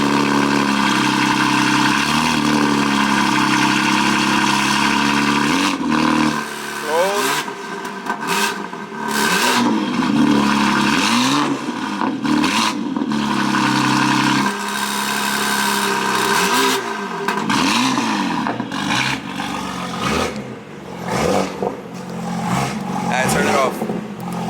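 A BMW G80 M3 engine revs in repeated bursts, first muffled with the exhaust valve closed and then louder and raspier once the valve opens, each blip climbing and falling, with people talking nearby.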